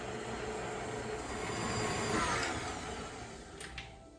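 An electric stand mixer whirs steadily as it creams butter with brown and white sugar in a locked bowl, a continuous close motor drone with a slight swell in the middle and a few faint clicks near the end.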